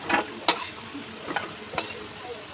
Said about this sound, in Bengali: প্রথমে রাঙা আলু আর গোল আলুটা তেলের ওপর দিয়ে অল্প একটু হলুদ দিয়ে অল্প করে নাড়াচাড়া করে নিয়ে